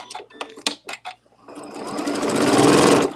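Sewing machine doing regular stitching on quilting work, a few short stuttering bursts and then a steady, close, busy run of stitches for about two seconds.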